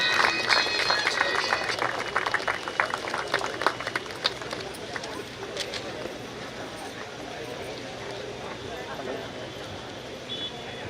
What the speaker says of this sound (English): We need a big round of applause for the students.